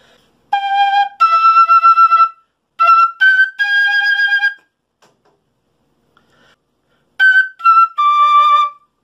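A quena flute plays a melody in two phrases of clear, breathy sustained notes, close and solo, with a long pause between the phrases.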